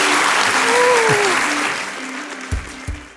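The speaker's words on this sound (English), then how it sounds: "please give him a round of applause" An audience claps loudly and densely before the applause thins and fades, ending in a few scattered claps, with a voice speaking over it in the early part.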